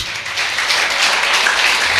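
A worshipping congregation breaks into sustained applause for God, many hands clapping in a thick, even wash that holds steady and loud throughout.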